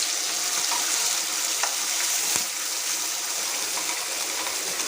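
Bay leaves and ground masala paste fry in hot oil, giving a dense, continuous sizzle that stays loud and close, with a few brief crackles and pops and no voices.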